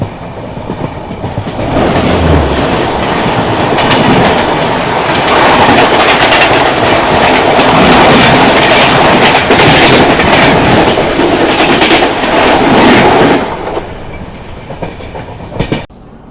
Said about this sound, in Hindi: अभी अपनी ट्रेन स्किप कर रही है आपटा रेलवे स्टेशन